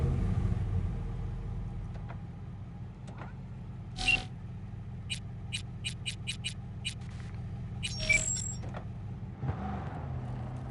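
A truck engine in a video game drones low and steady beneath a string of short, sharp clicks and ticks, with a faint shift in the engine note near the end.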